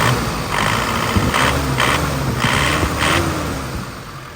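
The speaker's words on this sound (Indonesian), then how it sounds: "suaranya masih ciri khasnya banget ya, masih ciri khasnya Panther 2500 banget ya" A 1996 Isuzu Panther Grand Royale (Panther 2500) diesel engine idles steadily nearby, with a low, even rumble and a faint knocking rhythm throughout, no voices.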